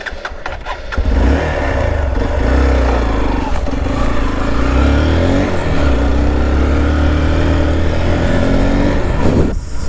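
A Hero Xpulse 200 motorcycle runs loud and close throughout, a steady mid-pitched engine drone during the ride with a few brief throttle blips near the start and no voices.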